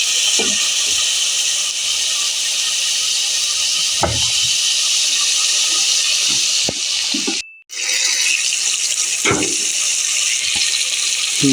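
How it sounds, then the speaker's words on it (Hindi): Onions browning in a pan with garlic-ginger paste hiss as a continuous loud sizzle with scattered pops and crackles, briefly cutting out near the middle, with no voices. "दो से 3 मिनट के लिए भी हम प्याज को ब्राउन होने के लिए छोड़ेंगे इसमें"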